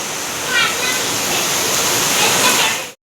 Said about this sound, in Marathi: पाऊस भयंकर जोरात आहे बघा.